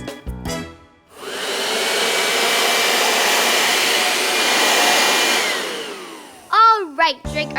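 A steady, loud whooshing roar imitated by a voice, held for about five seconds before trailing off, with short bursts of talk before and after.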